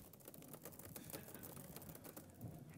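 Rapid typing on a computer keyboard: a quiet, continuous patter of small key clicks with no pauses, heard faintly and without talk.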